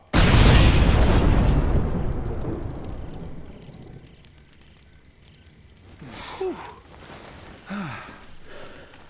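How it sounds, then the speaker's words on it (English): Explosive charge detonating in the survival video game State of Decay: a loud, broad blast that rolls off into a long fading rumble over several seconds, followed by a few faint scattered knocks. "Charge is set, Sarge. Everybody fall back. Let's move! Clear the blast radius."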